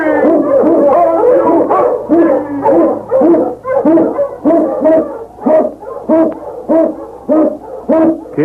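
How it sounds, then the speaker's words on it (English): Eskimo sled dogs howl and bark in a loud chorus for a Yukon radio drama, with rhythmic, repeated yelping howls rising and falling over about eight seconds. "King, the swiftest, strongest of Eskimo lead dogs, blazes the trail through storm and snow"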